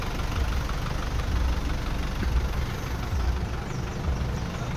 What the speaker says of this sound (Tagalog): Okay, engine rev.